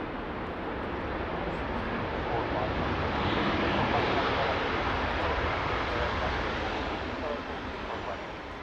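A Ryanair airliner landing at Manchester Airport gives a broad, steady roar that swells slightly and then eases off, heard from a moderate distance, with people talking faintly over it.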